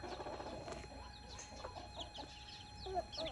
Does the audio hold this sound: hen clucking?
yes